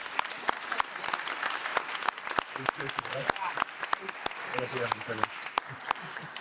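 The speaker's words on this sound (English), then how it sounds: "One more round of applause for all of our presenters." An audience at a policy innovation challenge event applauds its presenters, with steady clapping throughout and a few sharp, louder claps standing out; brief bits of voices come through in the middle.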